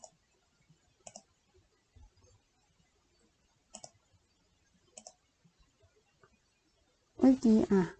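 A computer mouse gives several sharp, isolated clicks at irregular intervals while someone works on a web page button, close and crisp in a quiet room, before a person starts speaking at the end.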